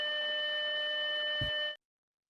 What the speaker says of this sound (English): It was a flat line sound effect.